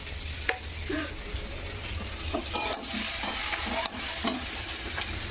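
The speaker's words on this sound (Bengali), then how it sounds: "এখন রান্না করছি মাছের ঝোল" Fish curry cooks in a pan with a steady close sizzle, while a spoon stirs and scrapes with occasional light clinks.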